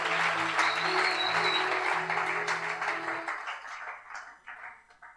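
Church audience applause at a worship service, loud and dense at first over held organ-like tones, then thinning out and fading after the music stops.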